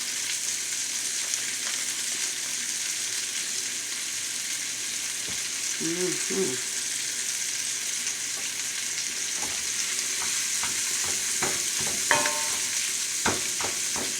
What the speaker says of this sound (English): So I'm going to cook this until make it into crumbs, like, you know, sausage crumbs